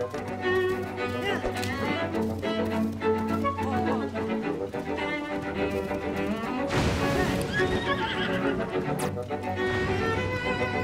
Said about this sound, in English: I'm going to grab my horse